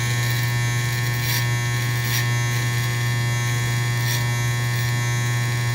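Electric hair clippers with the guard closed buzz loudly and steadily while cutting a taper fade, the drone constant with slight changes as the blade moves through hair.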